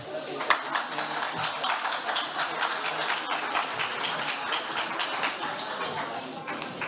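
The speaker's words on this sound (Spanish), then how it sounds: "Vamos a recibirlos con un fuerte aplauso." Audience applauds to welcome panelists at a forum on informal settlements, a fairly faint, steady patter of many hands clapping through the whole stretch, with a voice briefly audible.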